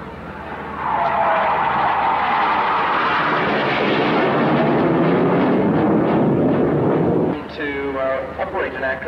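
Jet aircraft roaring past at an airshow while flying an eight-point hesitation roll, a loud broad rushing swell that holds for several seconds then drops away, with a voice speaking near the end.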